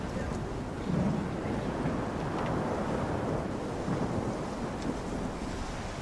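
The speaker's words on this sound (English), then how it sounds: "I guess it's a bad idea to hang around here during the storm." A stormy outdoor scene in STALKER 2 with a steady, dense rush of wind and rain-like noise, low rumbling swells suggesting thunder, continuous throughout without speech.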